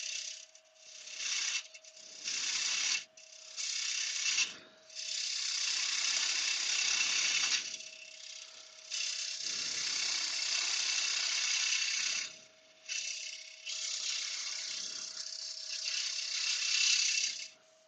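A carbide cutter cleans out material in a workpiece, giving bursts of harsh, rasping grinding that start and stop in uneven stretches, with a steady high whine running underneath; loud and close with no talking.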